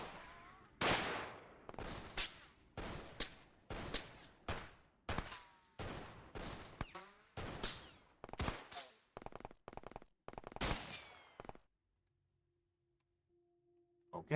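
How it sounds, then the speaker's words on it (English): Bursts of automatic gunfire from The Xcom Files video game, a dozen or more loud, rapid volleys in quick succession, some clipped and stuttering, before the shooting stops and near silence follows. "That was a lot of gunfire."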